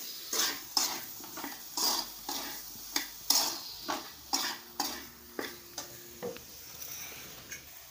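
A spoon scrapes around a pan with regular, evenly spaced strokes while boiled potato is mixed with turmeric and salt for patties, close and clear with no talking.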